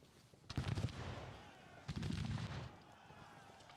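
Massed musket volleys in the Grand Tactician: The Civil War video game, two rolling bursts of crackling gunfire a second apart, each a dense ragged roar that fades away at a moderate distance.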